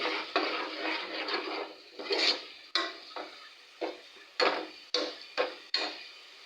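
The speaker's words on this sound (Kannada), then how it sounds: "ಕುದೀತಾ ಇದೆ ಸಾಂಬಾರು." Sambar simmering in a pot as a spoon stirs it, a soft bubbling wash broken by a series of sharp clinks and scrapes against the vessel, close and fairly quiet with no speech.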